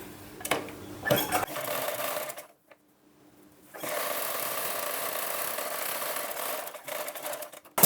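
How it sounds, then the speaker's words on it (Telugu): A sewing machine runs in two close bursts, stitching along a folded blouse edge, with a short pause between runs and some rubbing of fabric at the start. "దీన్ని కూడా యాజ్ ఇట్ ఈజ్ సేమ్ ఒక మడత తర్వాత మళ్ళీ ఇంకొక ఫోల్డ్ అనేది చేసుకొని ఇప్పుడు దీనిపై నుంచి కుట్టు అయితే వేసుకుందాం"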